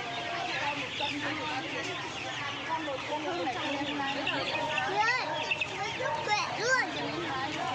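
Chickens clucking at a poultry stall in a city market in Lạng Sơn, a dense crowd of overlapping clucks and squawks, near and steady, mixed with the chatter of people talking nearby.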